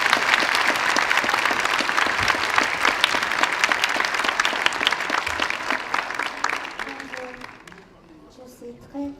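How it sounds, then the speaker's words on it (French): A convention opening-ceremony audience applauds composer Akino Arai with loud, dense clapping that holds steady for about seven seconds before fading out, as a voice begins speaking near the end. "Je vous demande d'applaudir Madame Akino Arai."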